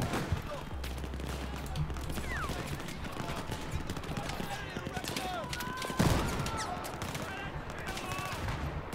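Rapid automatic gunfire in Battlefield 4 in Shanghai, a dense rattle of shots throughout with faint distant firing underneath and a sharper blast near the end, mixed with game sounds.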